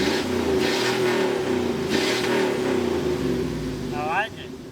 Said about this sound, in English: So go ahead and fire it up.